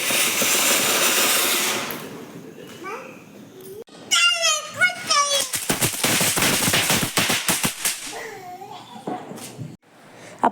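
Vishu firecrackers burst outside in a rapid crackling string of sharp pops, loud and close, after an opening stretch of broadband noise; a voice cries out between the bursts.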